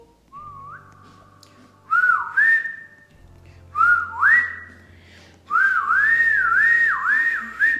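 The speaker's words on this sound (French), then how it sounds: "ça c'est moi qui sifflais" A person whistles in several rising and wavering phrases, loud and close, separated by short pauses, with the last phrase a looping up-and-down melody.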